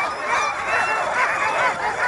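A sled dog team at the start of the Goose Bay Inn 150 race in Alaska in February 2023, with many dogs barking, yipping and whining together in an excited, continuous, overlapping chorus close by.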